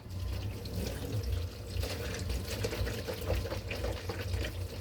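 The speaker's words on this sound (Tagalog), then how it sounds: "Dito ko siya bubuhusan ko siya ng mainit na tubig." Hot water poured over raw greens sitting in a kitchen strainer, a steady broadband splashing and trickling wash that runs for several seconds up close, with faint clatter and no talking.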